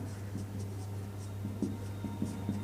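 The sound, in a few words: writing on a board during a physics lecture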